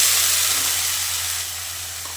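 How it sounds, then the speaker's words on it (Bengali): Hot water hitting a pan of frying taro and potatoes, giving a steady, close steam hiss and sizzle that gradually eases off, with no talk. "এবার আমি এর মধ্যে কিছু গরম জল অ্যাড করে দিচ্ছি।"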